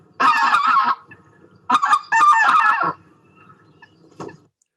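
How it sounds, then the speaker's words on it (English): Geese honking on a winter birding recording from Sussex, high-pitched and squeaky: a loud burst of calls, a short pause, then two more close bursts, ending with one fainter honk. "they have a really high-pitched sort of honk, these geese"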